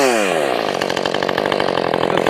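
A ported Husqvarna 450 Rancher chainsaw revs hard close by, its engine climbing quickly to a high, buzzing scream and holding at full throttle.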